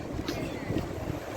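Seaside wind blows as a soft, low rumble and breathy buffeting across the microphone, faint and continuous, with a few quiet voices in the background.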